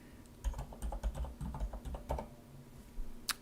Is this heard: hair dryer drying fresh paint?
no